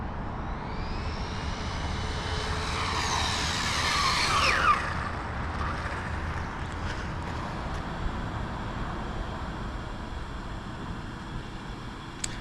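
A Rlaarlo AK 917 brushless RC car on a 2S battery with stock motor and gearing makes a rising high-pitched whine as it speeds past, peaking around the middle and fading away into outdoor ambience.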